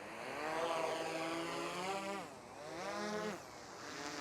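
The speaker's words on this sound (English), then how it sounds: "And listen to how quiet this drone is." Motors of a small drone rev up as a close, fairly loud buzzing whine that rises and falls in pitch, with no talking.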